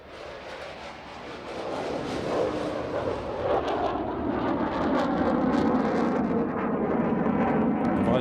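Eurofighter Typhoon jet carrying four Meteor missiles during a flying display at Farnborough International Airshow 2016, a loud rising roar building over several seconds and then holding as a heavy, rumbling engine sound.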